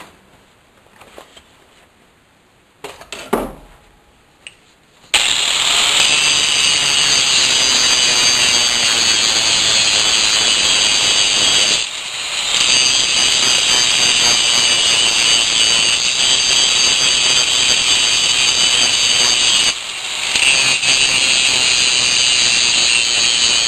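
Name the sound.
power tool chamfering a metal edge before welding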